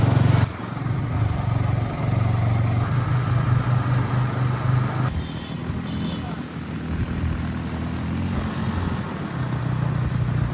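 A motorbike engine drones steadily during a ride toward a shop, a low continuous hum with wind noise and a brief shift partway through.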